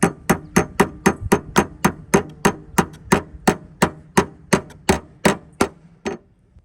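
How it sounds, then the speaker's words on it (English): A hammer drives a truck antenna adapter piece down with about eighteen sharp metallic strikes in steady rhythm, close and crisp. "So I'm actually going to take a hammer."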